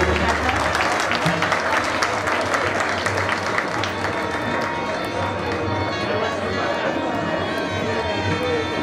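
Spontaneous applause from an audience at a guru honouring ceremony, a dense continuous wash of clapping that holds steady throughout with a few voices mixed in.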